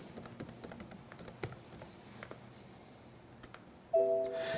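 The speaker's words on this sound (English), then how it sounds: "So once again, we just type in the IP address." Fingers type an IP address on a computer keyboard in a quick, uneven burst of faint clicks over a quiet room, ending in a sustained electronic tone.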